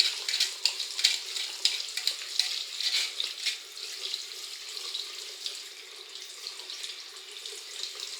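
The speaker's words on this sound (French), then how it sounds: "on les rince tout simplement en appuyant un petit peu dessus" Tap water runs steadily over tomato seeds held in a fine conical strainer as they are pressed to wash away the gel: a continuous close hiss and splatter with small fluctuations, no voices.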